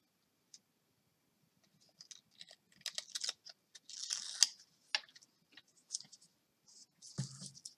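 Scissors snip through strips of tape at a scrapbooking and card-making table, a series of small crisp clicks and cuts, some quick and clustered, others spaced apart, close and fairly quiet with no talking.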